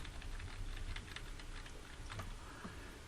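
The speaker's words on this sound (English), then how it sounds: "I'm going to use my keyboard arrows to move it up." Computer keyboard keys pressed repeatedly on a PC, faint quick clicks in a loose run over a quiet background hiss.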